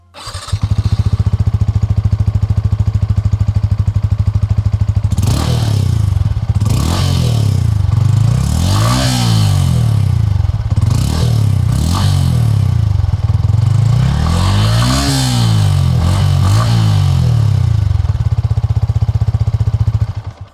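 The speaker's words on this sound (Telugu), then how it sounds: "సో ఈ బైక్ ఎగ్జాస్ట్ నోట్ ఎలా ఉందో ఒకసారి చూద్దాం మనం" A Yamaha XSR 155 Scrambler motorcycle idles with a steady, throbbing exhaust note, then revs up several times in sweeping bursts before settling back to idle, loud and close.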